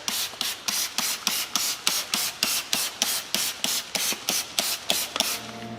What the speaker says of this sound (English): now you can go in and you can spray your brake buster.